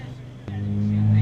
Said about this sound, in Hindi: तो गाड़ी को हम ड्राइव कर रहे हैं